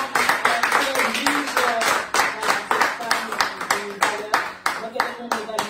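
Audience applause at a talk on maternity, a dense run of overlapping hand claps with a steady rhythm, heard close and fairly loud while a voice speaks over it.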